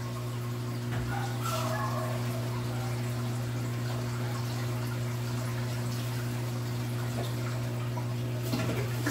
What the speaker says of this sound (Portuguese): se eu não desligar a bomba do aquário jumbo, fica muito barulho aqui por causa da circulação da água